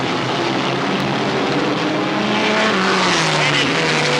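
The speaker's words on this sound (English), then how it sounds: "Green flag. We're back racing." Race cars roar past at full throttle after a green-flag restart, a loud, continuous engine drone with pitch sliding downward as the field passes.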